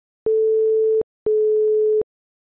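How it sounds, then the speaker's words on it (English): A pure sine tone at A4, 440 Hz, sounds twice, each a steady, loud, even pitch lasting about three quarters of a second, separated by a short silence with clean starts and stops. "Here's a quick example using sine waves."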